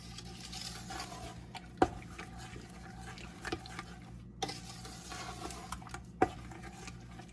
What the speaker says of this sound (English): It's a lot of stirring just to dissolve all that sugar and bring it to a boil.